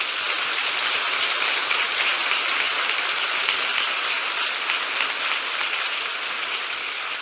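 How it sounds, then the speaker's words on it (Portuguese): Congregation at a Catholic church service applauds, a dense, even roar of clapping that holds steady throughout with no voices. "Acolhemos esta palavra com a salva de palmas."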